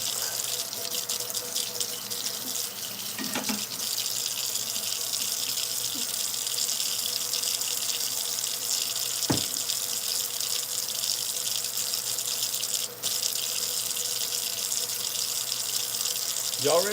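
Hot tap water runs steadily into a kitchen sink to wash a pan, a continuous hiss and splash with a few clinks of dishes, while a faint voice talks in the background.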